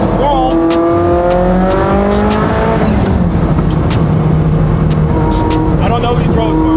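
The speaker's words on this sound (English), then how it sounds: "it's insane when the turbos just kick in. It's like no power, and then just whoa." Ferrari F40 twin-turbo engine pulling hard under acceleration on an unfamiliar road, a loud sustained drone with rising harmonic tones throughout, heard from inside the car with voices talking over it.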